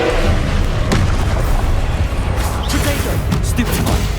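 Fire spell blasts in Hogwarts Legacy combat: a dense run of booming, crackling explosions and impacts over a low rumbling bed, loud and continuous with sharper bursts throughout.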